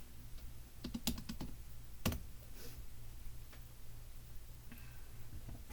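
A handful of light key clicks on a computer keyboard while typing a short search, scattered taps over a steady low room hum, fairly faint and sparse.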